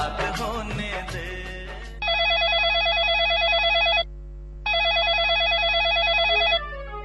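A telephone rings loudly in two long electronic bursts on a Hindi radio phone-in show, Hello FM Betul on Akashvani, the trilling rings coming right after a stretch of music with a short pause between them.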